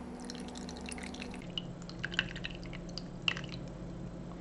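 Water drips and trickles from a soaked Kasper maxi size 4 baby diaper, a few small separate splats and drips over a low, quiet background hum.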